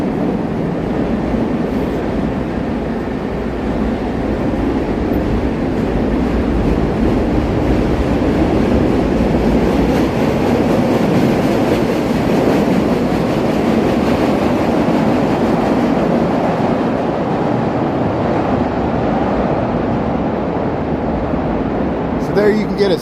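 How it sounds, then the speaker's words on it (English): Chicago L elevated train rumbling along Wabash between tall buildings, a loud, sustained roar of wheels and cars echoing in the street canyon, fading slightly toward the end. "There you can get a sense of how loud the L trains can get heading through this canyon here on Wabash"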